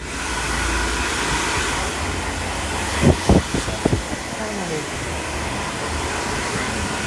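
A hair dryer blows steadily and loudly on hair during a twiggy mix bob haircut in a barber shop, with a brief cluster of clicks and handling noises partway through.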